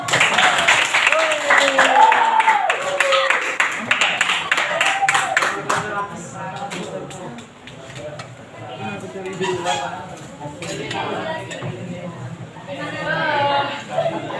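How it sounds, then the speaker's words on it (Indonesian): A classroom audience applauds during a chemistry teaching-practice exam, giving a dense burst of clapping for about six seconds with voices mixed in, before the clapping fades and a person talks on. "Beri tepuk tangan dulu."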